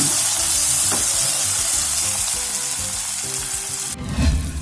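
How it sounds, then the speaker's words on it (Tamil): Biryani masala with tomato, oil and mint sizzles loudly in a pot while being stirred, a steady crackling fry with a brief clatter near the end. "இப்போ இதில் மின்ட் ஒரு கை போடுறேன், அதை நல்லா மிக்ஸ் பண்ணி விட்டுக்கலாம்."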